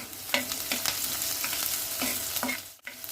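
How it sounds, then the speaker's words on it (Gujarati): Vegetables sautéing for veg fried rice in a pan over a medium flame, with garlic cloves, giving a steady close sizzle broken by several short scraping stirs. "આપણે એને મીડિયમ ફ્લેમ પર જ સાતડી લેશું એને."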